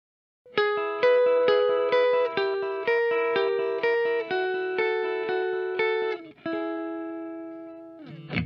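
A 2021 Fender Noventa Jazzmaster with three P90 pickups played clean and close, a series of plucked chords and single notes ringing out with a steady rhythm, then a final strum.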